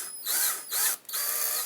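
A power drill boring a hole in plastic for a GoPro mast mount, whining in three short bursts separated by brief pauses, loud and close.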